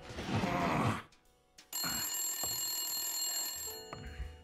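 A telephone rings in the noir detective game Blacksad: Under the Skin: after a loud burst of other game sound and a short pause, a bright electronic ring starts and holds steady for a couple of seconds, then a click.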